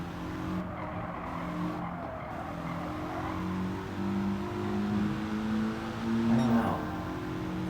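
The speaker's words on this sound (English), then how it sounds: "Just hit the wall again." Race car in Gran Turismo 7 skidding with tire squeal over a steady engine drone, ending in a brief impact as it hits a wall, moderately quiet and without talk.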